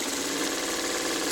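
Sewing machine running a continuous stay stitch inside the seam allowance on a curved quilt block, a steady close mechanical whir at even speed with no pauses or voices.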